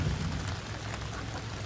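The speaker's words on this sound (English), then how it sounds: "There's a little bit of rain." Steady rain falls around a cabin, a dense, continuous hiss of drops filling the clip at moderate loudness, with no voices.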